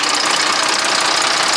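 A Volvo G88 truck's diesel engine runs close and loud, a steady rapid knocking chug with no voices over it.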